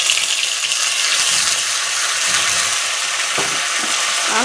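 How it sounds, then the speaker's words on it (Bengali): Ground spice paste of cumin, chili and coriander sizzling and frying in a hot pan, a loud, steady hiss throughout with a brief clack of a spatula near the end. "আর মশলাটা দিয়ে কষতে থাকবো"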